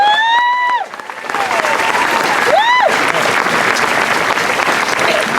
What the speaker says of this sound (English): A round of applause for our seniors.